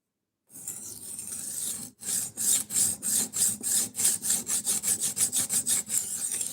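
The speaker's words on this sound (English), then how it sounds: "We're sharpening a rather inexpensive Damascus kitchen knife." An inexpensive Damascus kitchen knife is sharpened with a long opening scrape, a brief pause, then about sixteen quick, even rasping strokes in a steady back-and-forth rhythm, close and clear.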